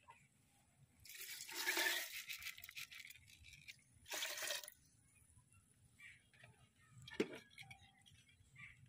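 Water poured into a pressure cooker holding dal, a soft splashing pour in two short bursts followed by a faint clink, quiet and close.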